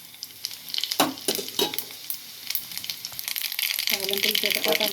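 Tempering for Andhra gongura dal crackles and sizzles in hot oil, with sharp pops early on and a denser frying hiss building toward the end, close, with faint talk at times.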